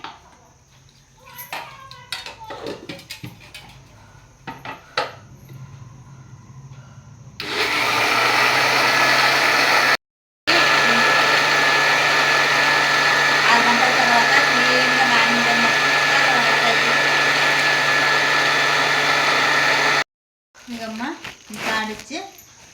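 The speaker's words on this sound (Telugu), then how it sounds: "ఇప్పుడు మిక్సీకి వేసుకుంటాండమ్మా మిక్సీకి వేసి పెట్టుకుంటాను" A mixer grinder (mixie) whirs steadily and loudly for about twelve seconds, briefly cutting out midway, as it grinds soaked rice for idli batter; someone talks and kitchen clatter is heard before and after.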